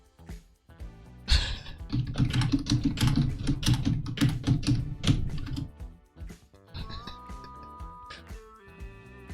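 Rapid, continuous clatter of computer keyboard typing, close and fairly loud, runs in quick bursts for several seconds, then gives way to a few sparse key taps and soft electronic tones.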